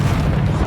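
A Confringo fire spell blasts in Hogwarts Legacy, a deep, rumbling boom that fills the short moment with heavy low-end thunder and no pause.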